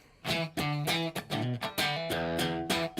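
Electric guitar fitted with handmade pickups plays a funky rhythm of repeated strummed chords and short stabs, close and loud with no talking.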